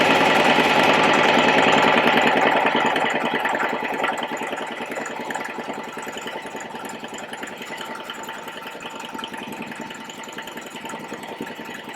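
A sewing machine running steadily while stitching straight lines of shirring on a jumpsuit back, a continuous rapid mechanical whir that starts loud and eases off slightly after a couple of seconds.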